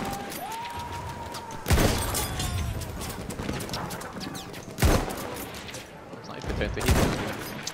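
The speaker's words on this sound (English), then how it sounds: "Why are these shots missing?" Gunfire in Battlefield 1, with loud, sharp shots bursting at irregular intervals over a busy background of battle noise and faint voices.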